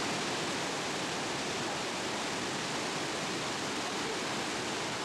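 Iguazu Falls in Argentina roars up close, a dense, steady wash of falling water that fills the whole scene, constant and loud with no breaks or voices.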